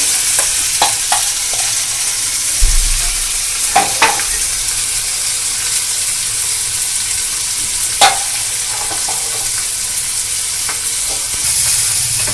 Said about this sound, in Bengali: এটাকে ভালো করে নেড়ে নেড়ে কষে নিতে হবে তেলেতে পুটটা যত ভালো কষা হবে